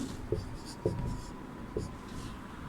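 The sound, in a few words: writing an answer by hand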